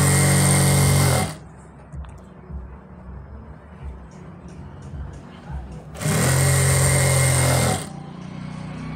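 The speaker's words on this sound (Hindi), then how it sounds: "इसको नीचे तक सिलाई लगाएंगे इसमें।" A sewing machine stitches a ladies' pant in two loud, steady bursts, one at the start and another a few seconds later, with quiet gaps of faint room noise between them.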